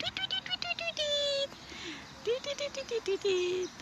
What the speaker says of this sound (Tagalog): Ingay ng ibon.